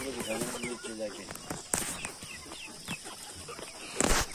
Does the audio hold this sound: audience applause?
no